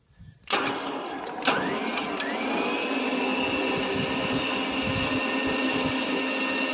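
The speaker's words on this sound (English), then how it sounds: "Engage my winch here." Electric winch pulling cable during a salvage of 1940s Chevrolet cars: a sharp clunk as it engages, then a steady loud motor whine that rises slightly in pitch and holds continuously.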